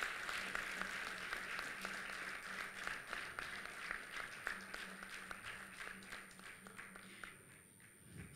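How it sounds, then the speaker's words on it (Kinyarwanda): A crowd in a hall at a launch event gives sustained, steady applause to welcome a man called papa. The dense clapping runs throughout and sounds moderately distant. "Ndashaka dukomere amashyi na papa winjiye muri sale, tumuhe ibyubahiro bimukwiriye."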